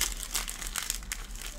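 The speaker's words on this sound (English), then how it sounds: "you're going to fold the paper away from you" A sheet of paper is folded away from the body, giving quiet, steady crinkling and crumpling with a few sharper rustles, heard close and alone.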